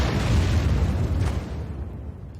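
A tank cannon shell fires and detonates in a World War II tank battle video game, one loud, deep booming blast that rolls on and slowly fades, no talking.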